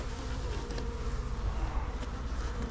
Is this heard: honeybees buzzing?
yes